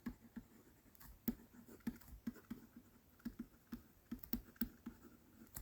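Pen writing out an accounting definition during an A Level accounting lesson, heard as quiet, irregular scratchy taps and strokes close to the microphone, with no talking.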